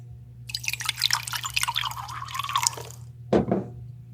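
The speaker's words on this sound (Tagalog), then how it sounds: "May I pour you some chilled water while you look the menu?" Chilled water is poured into a glass in a restaurant setting: a close, trickling pour lasting about two seconds over a low background hum, followed by a brief, sharper splash or clink, with no talking.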